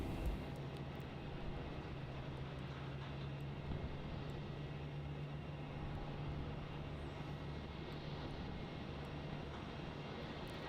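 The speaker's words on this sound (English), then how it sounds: "Jetstar rolling down 3-4 there" A Jetstar Airbus A320 takes off down runway 34 at Melbourne Airport, heard as a steady, moderately distant engine roar with a low hum that holds evenly throughout.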